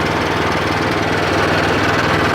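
A WEIMA WMX663 mulcher's engine runs while the machine drives in first gear, giving a loud, steady, close drone with a rough mechanical rumble and no pauses or talk.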